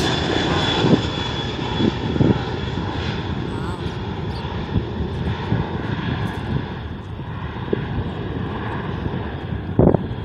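Loud, steady roar of large airplane engines during takeoff, a constant rumbling drone with wind buffeting, while people talk faintly underneath.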